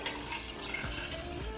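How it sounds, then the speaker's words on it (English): Fresh water pouring into a cooking pot of pinto beans, a steady splashing, gurgling stream close by with no talk. "we're going to cover it with some fresh water and start cooking"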